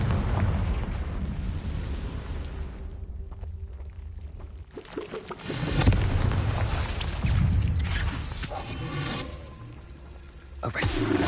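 Blasting explosions from the Confringo spell in Hogwarts Legacy, loud booming bursts over a dense rumbling game soundscape, with a couple of heavier impacts around the middle and end.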